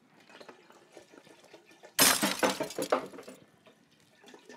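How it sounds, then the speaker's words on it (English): White grape juice is dumped from bottles into a pot, starting as faint trickling and then bursting into a loud, splashy gush midway before settling back to quieter dripping and clinking. "I'm dumping them into a pot."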